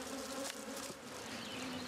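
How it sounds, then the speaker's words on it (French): Honeybees buzz densely around the queen inside a hive, a close, continuous drone with no voices. "Toutes les abeilles sont autour de la reine."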